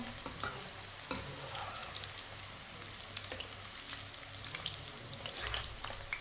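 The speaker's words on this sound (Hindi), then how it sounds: "गोभी को ना हल्का सा ब्राउन करना है, ज़्यादा ब्राउन नहीं करना।" Cauliflower pieces fry until lightly browned in a pan, giving a steady close sizzle with crackling pops and the occasional scrape of stirring, and no talking.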